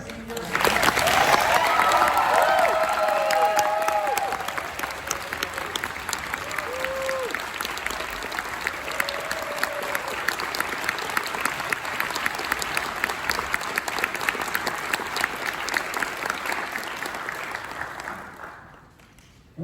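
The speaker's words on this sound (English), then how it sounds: "can we get like a last big round of applause for every senior?" A big round of applause for graduating seniors at a student orchestra concert, dense crowd clapping with some cheering and whoops early on, sustained for most of the span before fading out near the end.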